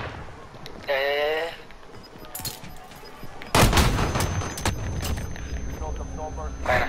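Bursts of rapid gunfire crackle in the video game Call of Duty: Warzone, with a loud blast partway through, while a voice talks intermittently over the action.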